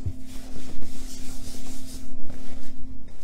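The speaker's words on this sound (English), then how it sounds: "Immediately wipe it all off. Scrub it off, scrub it off." Wax is wiped and scrubbed off a painted cabinet top with steady, close rubbing strokes in a repeating rhythm, over a low constant hum and with no talking.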